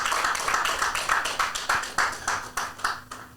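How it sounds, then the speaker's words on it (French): Rhythmic group clapping at an even, steady beat during a church Bible quiz game, fairly close and loud with no talking over it, fading at the end. "Quand elle vient, on applaudit le Seigneur pour sa vie"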